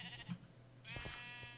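Sheep in the Minecraft video game let out two or three short, wavering bleats over a faint hum, clear and alone.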